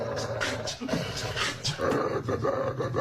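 A Labrador pants close by in quick, breathy rhythm, mixed with some low vocal noise and faint background voices.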